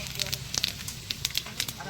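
Bay leaf, dried chilli and panch phoron tempering in hot oil in a cooking pot, giving quiet, irregular crackles and sharp pops over a soft frying hiss, close by.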